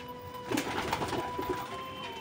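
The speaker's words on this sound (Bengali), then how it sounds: "আমাদের সুলতান, ম্যাড্রাস, আরো একটা পায়রা গাছ বাইরে আছে" Soft, low pigeon coos repeat in a gentle rhythm, fairly close, over a quiet background hum.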